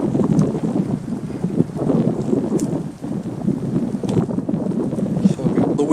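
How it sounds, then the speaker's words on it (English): Strong wind roars steadily across a winter campsite on a cold night, a dense continuous rush with gusts and buffeting against the microphone, with no clear voices over it. "So the wind's kicked up again."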